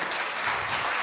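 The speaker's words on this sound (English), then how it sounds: "Round of applause, ladies and gentlemen." Audience applause fills a conference hall at an event on raising graduation rates for boys of color, a steady, dense wash of clapping lasting about a second with no voices.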